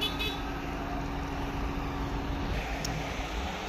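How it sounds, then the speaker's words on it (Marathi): Busy road traffic near Makardhokada Dam on the Umred–Buttibori road outside Nagpur, with a steady wash of vehicle noise and car horns tooting over it, fairly close and continuous. "बापरे काय गाड्या गाड्या आहेत तिथं"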